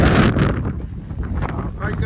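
Strong wind buffets the microphone at a car camping site in Malico, San Nicolas, Pangasinan. Loud low rumbling gusts surge and ease, heaviest at the start, with a voice faintly present.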